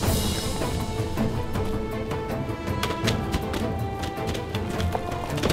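Several horses' hooves clip-clop on the ground in a steady, uneven rhythm at moderate distance, with no voices over them.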